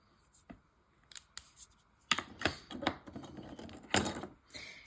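A dark green fine line pen lightly sketching shading strokes on paper, close, quiet scratchy strokes in short irregular bursts with brief pauses between them.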